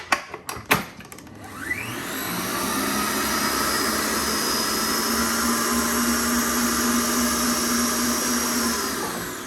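An electric hand mixer whirs steadily through tiramisu cream after a few sharp knocks, its motor drone loud and close with a sustained whine and no talking.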